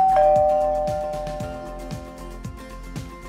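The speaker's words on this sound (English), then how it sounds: "someone comes to your home, rings the bell" An electronic doorbell chime in a home rings out clearly, a bright two-tone ding-dong followed by a repeating musical tone pattern with a low pulsing beat beneath it, close and fairly loud with no talking.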